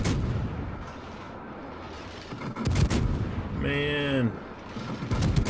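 Naval gunfire from the French tier-10 cruiser Colbert in World of Warships, aimed at an enemy Kronstadt, booms in several heavy salvos amid a rumbling sea ambience, with a brief spoken word in between.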